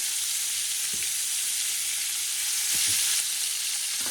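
Pork shoulder searing in a pan over medium-high heat for paella, a loud continuous close sizzle with a few faint utensil taps, no talking.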